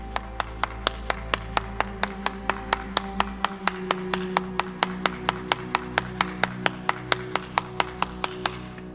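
Steady, evenly spaced hand claps repeat in a brisk rhythm, sharp and close, with a low hum fading out partway through.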